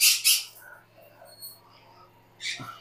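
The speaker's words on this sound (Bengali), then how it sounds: "এইখানে আছে এক জোড়া হলুদ কোকাটেল" A pair of yellow cockatiels give short, loud squawks near the start and again near the end, with quieter chirps and faint background sounds between them.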